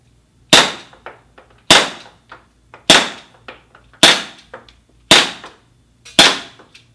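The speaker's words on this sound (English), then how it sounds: "So now fire this pistol 6 times." Six sharp, loud shots from an Elite Force CQB revolver, fired at an even pace roughly a second apart, each with a short rattling tail and no talk.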